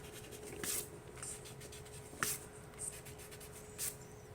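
An eraser rubbing out pencil lines on drawing paper for a cartoon face, a few short, soft, close scrubbing strokes separated by quiet pauses.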